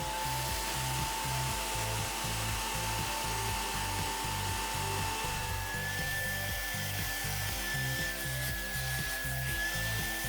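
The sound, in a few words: Parkside PWS 20 washing vacuum spraying and suctioning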